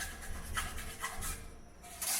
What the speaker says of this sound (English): I'm just going to run across here with a file real quick